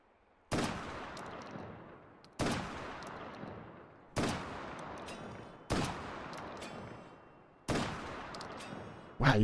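An M1014 shotgun fires five loud, evenly spaced blasts in a VR game, each a sharp crack with a decaying tail and roughly two seconds between shots, with a sixth beginning at the very end.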